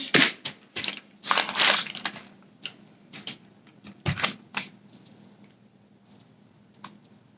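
A no-bake granola bar mixture is pressed firmly into a pan, giving a series of close, irregular crunchy crushing and crackling sounds in short bursts.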